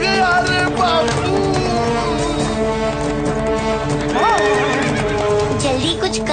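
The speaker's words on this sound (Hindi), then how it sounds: "वरना ये घोड़ा सारे बाजार को मैदान बना देगा।" A horse whinnies and neighs loudly while hooves clip-clop through a bustling market, with voices and music mixed in, in a Vikram and Munja cartoon.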